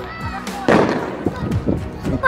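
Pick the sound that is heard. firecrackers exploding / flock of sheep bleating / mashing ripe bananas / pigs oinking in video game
firecrackers exploding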